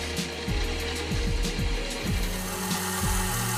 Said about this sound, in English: Back to the mill and I formed the shallow notches